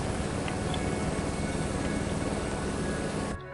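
An Airbus helicopter in Microsoft Flight Simulator 2024 gives off a steady, loud, dense engine and rotor drone that holds constant, then drops off abruptly at the very end.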